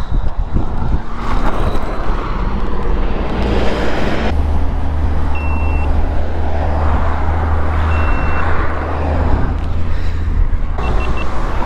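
Electronic beeping from a run-over vehicle's signal, short high tones repeating at intervals over a loud, steady engine-like rumble and broadband noise, with no talk.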